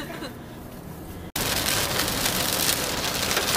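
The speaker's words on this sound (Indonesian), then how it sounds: "Kita sudah sampai Bandung. Disambut hujan." Rain in Bandung, starting as a quiet patter and then, after a brief cut, becoming a loud, dense, steady downpour on a surface.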